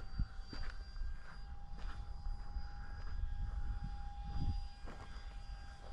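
An F-86 Sabre RC model jet, 560 mm span, on its maiden test flight: a steady engine drone with a faint high whine runs throughout, rising and falling slightly as it passes, with no talk.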